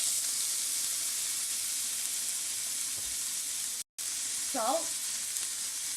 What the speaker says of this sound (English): Now heat up 1 tablespoon of oil in a pan. Put in the chopped onions